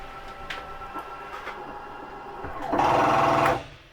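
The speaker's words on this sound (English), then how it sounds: "That's just the slide keeping itself from sliding out any further." The electric slide-out motor of a Catalina Trailblazer 29THS travel trailer hums quietly, then rises into a louder grinding whir for about a second as the slide hits its limit before easing off.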